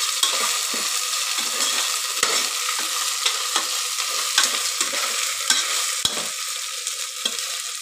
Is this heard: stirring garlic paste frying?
yes